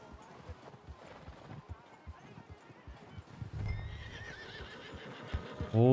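A horse whinnies and its hooves clip-clop through snow in Red Dead Redemption 2, with rhythmic hoofbeats building to a louder whinny near the end, alongside game sounds.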